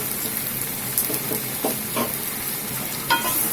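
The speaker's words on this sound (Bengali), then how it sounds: "এই যে আমগুলো ঢেলে দেওয়া হলো এখন কড়াই।" Raw mango pieces frying in a wok for pickle, a constant hissing sizzle with occasional spoon scrapes and clinks, close and moderately loud.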